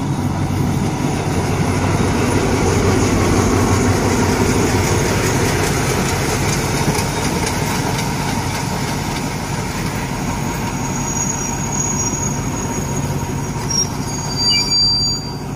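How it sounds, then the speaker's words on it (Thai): Alsthom locomotive 4303 hauling ordinary train 251 from Thonburi to Prachuap Khiri Khan into Ban Khu Bua station in Thailand makes a loud, close, continuous rumble of engine and rolling wagons, with high wheel squeals toward the end. "ขบวนธรรมดาที่251ครับธนบุรีประจวบคีรีขันธ์นะครับวันนี้ใช้อัลตอม4303ทำขบวนนะครับ"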